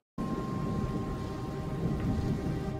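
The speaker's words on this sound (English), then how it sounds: "thunder begins to reverberate around the airport" Steady rumbling thunder from an electric storm rolls around an airport at dusk, a continuous low roar with rain-like hiss that holds level throughout, fairly loud and with no voices.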